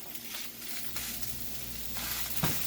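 A salmon burger patty sizzles in a hot pan as it is pressed down, giving a steady, close frying hiss with a soft scrape near the end.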